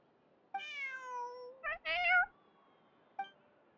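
A game cat gives a few clear meows, one long drawn-out call followed by two shorter chirpy ones and a final brief mew, close and alone.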